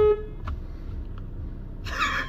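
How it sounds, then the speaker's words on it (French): A car horn gives a single short, bright blast near the end, after a stretch of quiet traffic rumble heard from inside a vehicle. "Klaxon, klaxon."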